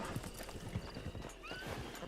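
Horses in a video game clip-clop along with rapid hoof beats, and one gives a high whinny near the end, all faint and close-sounding with no talking.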